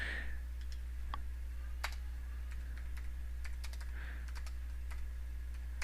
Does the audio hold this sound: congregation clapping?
no